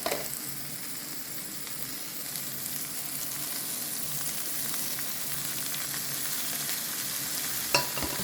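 Broccoli frying in a pan while being mixed, a continuous even sizzle close by with faint scraping of stirring, ending in one sharper clack, with no voices.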